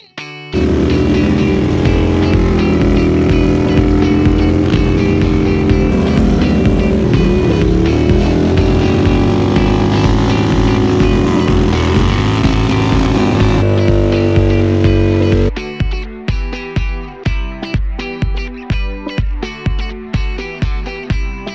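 A custom Harley Davidson motorcycle does rolling burnouts, its loud, sustained engine roar rising and falling under heavy throttle, then breaking into rapid repeated revving pulses near the end.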